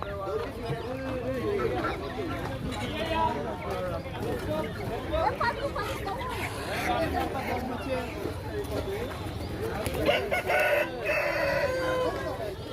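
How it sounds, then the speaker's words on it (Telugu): Chickens cluck and a rooster crows amid busy chatter at the Erragadda Sunday Market in Hyderabad, where ducks and eggs are also sold, with people talking nearby throughout. "అసలు అంచులు అన్నిటిలోనే కోళ్ళే ఉన్నాయి"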